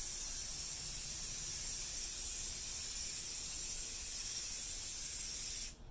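A spray can applying a single coat of sealer, a loud continuous hiss held close for several seconds before cutting off abruptly.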